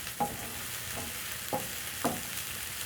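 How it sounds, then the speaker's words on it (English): Reused sausage-frying oil sizzles steadily in a pan for curried sausages, with four sharp spoon-scrape stirring strokes spaced through the clip, close and fairly quiet, with no talking. "So I'm cooking the same oil that I used to fry my sausages"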